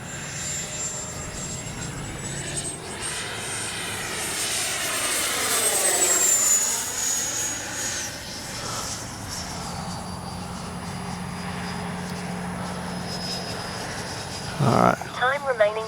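An FMS 70mm electric ducted-fan F-18F RC jet model in flight, its steady whine sweeping in pitch and swelling louder as it passes, with a person talking over the sound.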